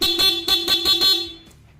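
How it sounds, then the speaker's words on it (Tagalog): A Honda PCX 160 motorcycle horn honks repeatedly in quick pulsing beeps, loud and close, then stops. "Busina."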